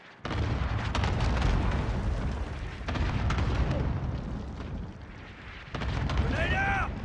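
An allied cluster strike hits in Modern Warfare: a string of heavy, rumbling explosions in overlapping waves, loud and sustained, with game voice callouts over the top.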